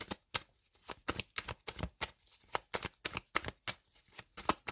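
An oracle card deck being cut and shuffled by hand: a rapid, rhythmic series of crisp riffling and slapping card bursts, close and clear with no voice.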